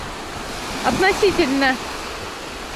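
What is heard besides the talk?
sea waves on a beach in Turkey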